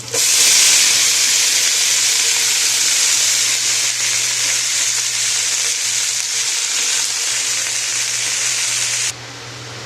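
Shredded cabbage hits a hot pot for a cabbage stir-fry, giving a loud, close, sustained sizzle and steam hiss that eases slightly and cuts off sharply near the end over a low steady hum.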